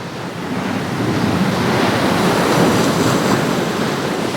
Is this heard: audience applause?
no